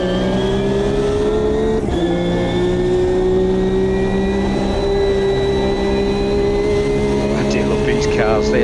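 Race car engines in the sim racing game Automobilista 2 drone and rev steadily, loud and continuous, with a sustained engine tone shifting pitch as the car accelerates; someone talks over it.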